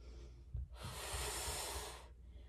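A single strong inhale during a mat exercise, close and breathy, lasting over a second as a steady rush of air after a brief thump.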